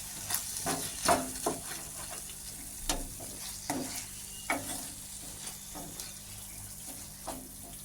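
Chicken roll filling with turmeric stirred in a pan, a soft background sizzle under a series of separate scraping and tapping strokes from the spoon, fairly quiet, with no talking.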